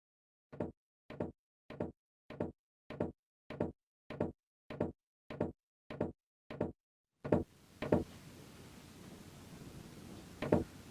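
Knocking on a door in the Deponia adventure game: eleven evenly spaced, sharp knocks, close and loud, then a noisy ambience with a few scattered thuds.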